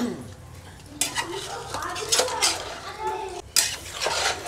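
A spoon stirs chicken pieces with chili powder and salt in a metal pot, making irregular scraping and clinking against the pot with a faint sizzle, close and moderately loud.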